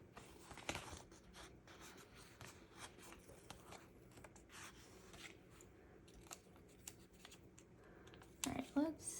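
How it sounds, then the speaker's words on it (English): Sticker sheets being shuffled and organized at a planner desk: soft papery rustles, slides and small taps, faint and close, with a person talking quietly over part of it. "Let's see if I can get all my sticker sheets organized here"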